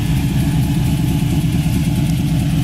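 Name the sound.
1969 Chevy Nova idling with dual exhaust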